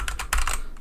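Computer keyboard keys pressed in a quick run of close, crisp clicks with short gaps between strokes, alone and with no talking.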